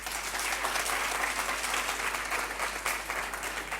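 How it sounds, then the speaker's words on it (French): A school quiz-match audience applauds both competing schools, an even wash of many hands clapping at moderate distance, fairly quiet overall, over a low steady electrical hum. "Applaudissez pour les deux écoles."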